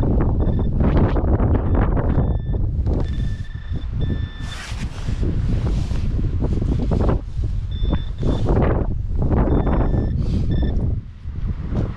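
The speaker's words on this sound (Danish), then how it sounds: "Det må da blæse op." Strong wind blows outdoors on Funen during a metal-detecting outing, loud gusty roaring across the microphone with a few faint intermittent beeps heard through it.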